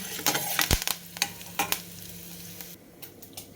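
Onion, cumin seeds, curry leaves and turmeric are stirred in a frying pan for ridge gourd curry, with a soft sizzle under scattered scraping clicks of a spoon against the pan, close and fairly quiet.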